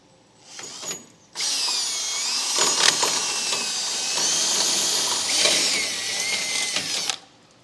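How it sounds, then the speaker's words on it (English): A power drill with a 1/2-inch bit bores straight through an existing hole while a base plate kit is fitted to a 2016 Chevrolet. A brief test burst is followed by a long, loud, continuous whining run that stops abruptly. "Now I'm going to take a 1/2-inch drill bit and go straight through this hole all the way out the other side."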